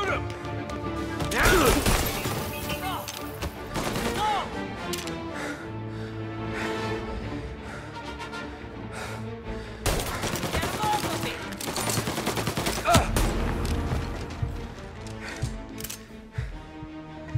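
Gunfire and crashing impacts in the video game Mafia Definitive Edition, a dense, loud stretch of shots, bangs and smashes mixed with music and voices talking throughout.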